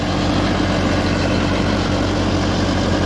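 A Farmtrac 6055 four-cylinder tractor idling in a village, a loud, close, steady low diesel rumble that holds unchanged throughout with no voices.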